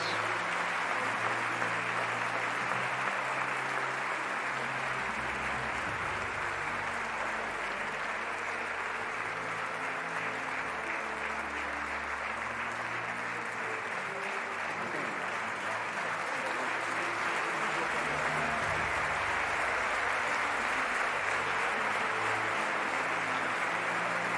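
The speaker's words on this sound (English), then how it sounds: "let's give a great round of applause to every one of our religious leaders." Applause for religious leaders at an interfaith harmony festival, a large audience clapping continuously and evenly throughout with a low hum of music or crowd murmur beneath.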